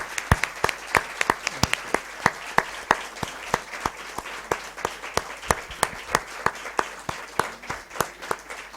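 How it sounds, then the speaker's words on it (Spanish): An audience applauds at a formal ceremony honouring King Carlos III, with a steady round of many hands clapping, fairly loud and sustained, and no voices. "Un aplauso."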